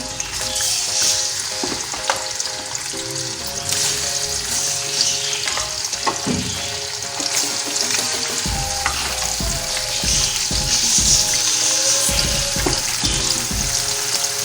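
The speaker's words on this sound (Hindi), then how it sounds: "अब मैं इसको तेज़ आंच पे फ्राई करूँगी ताकि चिकन हमारा अच्छे तरीके से फ्राई हो जाए।" Scored chicken leg pieces fry in oil over high heat in a karahi, a loud unbroken bubbling sizzle with occasional stirring knocks and scrapes, close by and without speech.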